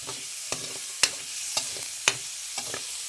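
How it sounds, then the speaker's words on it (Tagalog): Chicken browns in a pan for a sotanghon dish with pechay, a steady sizzle running throughout while a utensil knocks and scrapes against the pan in regular stirring strokes roughly every half second. "pa-brownin naman natin konti para di malansa yung chicken"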